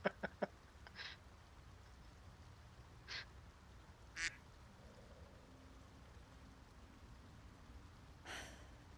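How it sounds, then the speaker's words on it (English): A duck quacks in the video game Baldur's Gate 3, a few short, faint calls spread across a quiet stretch with a low ambient hum and a few soft clicks at the start. "Was that a duck?"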